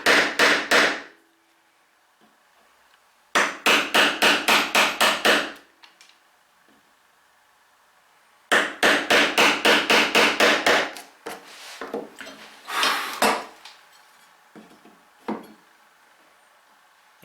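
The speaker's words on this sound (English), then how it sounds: "you better hit the chisel harder and make quicker progress" Mallet blows on a chisel chopping twin mortises in wood, heard in rapid bursts of sharp knocks, each burst a quick run of about eight to ten strikes, separated by pauses with a few lighter taps, close and loud.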